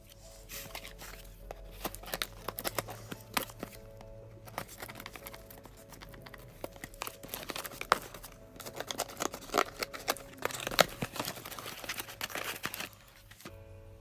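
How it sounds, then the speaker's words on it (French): Small scissors cutting open a cardboard parcel, with close crinkling, rustling packaging and scattered snips and taps that run steadily throughout. "deuxième colis que je vais ouvrir toujours avec mes petits ciseaux"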